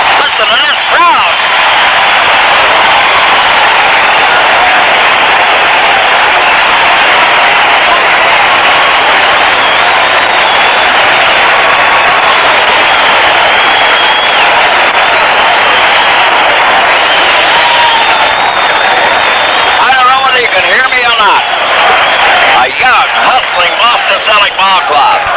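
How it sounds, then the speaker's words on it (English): A loud basketball arena crowd in a Boston game against Houston cheers and applauds steadily for the whole stretch, a dense, continuous roar of clapping and shouting with swells of excitement near the end. "Listen to this crowd."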